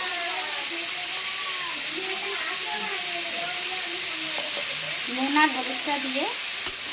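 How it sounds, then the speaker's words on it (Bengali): Malabar spinach and potato frying in a pan with salt and turmeric, a steady close sizzle with stirring scrapes, brief louder clatter near the end and faint voice-like tones in the background. "পুঁই শাক আর আলুটা আমি নুন আর হলুদ দিয়ে ভালো করে ভেজে নেব।"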